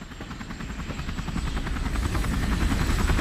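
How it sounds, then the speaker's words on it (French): A helicopter arrives in Resident Evil 4, its rotor thudding in a fast steady chop that grows gradually louder and nearer. "L'hélico est là."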